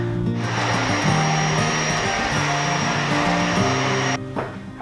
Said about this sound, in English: I gotta vacuum up this floor